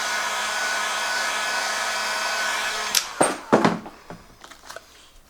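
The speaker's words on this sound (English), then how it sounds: "So take your piece and your heat gun. You're going to go ahead and heat it up again." A heat gun blows steadily at close range while warming vinyl wrap on a Traxxas XRT RC chassis, then cuts off, followed by a few sharp handling clicks and knocks.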